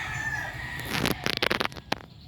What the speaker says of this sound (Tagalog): Magpatuka sa manok mga kabasis.